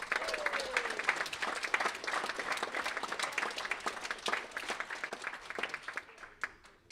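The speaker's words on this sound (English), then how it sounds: "everybody give them a round of applause for" Banquet audience gives scattered, fairly quiet applause to a scholarship committee, with distinct individual claps that thin out toward the end.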